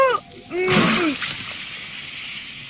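Water from a bucket splashes onto a fire in a cartoon, a sudden loud splash followed by a long steady hiss, preceded by brief swooping cartoon vocal sounds.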